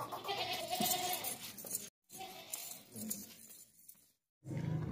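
A large goat bleats close by, a wavering cry repeated in short bursts, with faint clinking and brief pauses of silence between.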